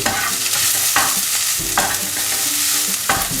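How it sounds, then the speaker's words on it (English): Onion, garlic and paprika are stirred in a frying pan, loud close sizzling punctuated by three rhythmic scraping sweeps of the spoon, with no talking. "Just giving it a nice good mix up."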